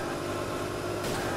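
A car engine in a drifting video game drones loudly and continuously, a dense mid-to-low rumble with a slight shift in tone near the end and no speech over it.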